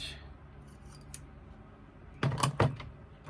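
Scissors trim the edge of a fabric slip pocket on a crossbody bag, making a faint snip early on and then a couple of close, crisp cutting strokes in a quiet room.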